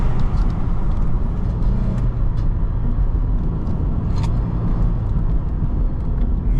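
M-Force tuned Lexus IS250 under hard acceleration, with a loud continuous engine and exhaust roar and a few faint crackling pops, heard steadily from nearby.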